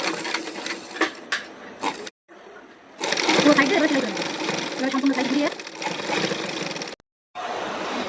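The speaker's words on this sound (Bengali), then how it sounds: "এভাবে কেটে নেওয়ার পর সাইড দিয়ে একটা সেলাই দিয়ে নেব।" A sewing machine stitches along the side of a dress neckline, running in loud steady stretches broken by brief pauses, with a voice talking over it.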